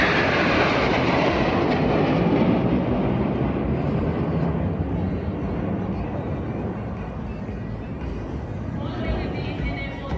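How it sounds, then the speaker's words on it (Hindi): A jet roars loudly overhead at a Republic Day parade airshow in India, a broad continuous rush that slowly fades, with crowd voices underneath. "ये जेट है भाई।"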